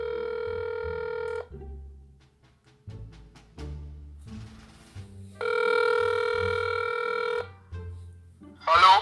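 A telephone rings in a loud repeating electronic ring, two long bursts separated by background music with a steady beat and a short muffled vocal, ending in a bright chirp.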